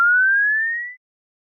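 A generated pure sine tone sweeps smoothly upward in pitch for about one second, clean and alone, then cuts to silence.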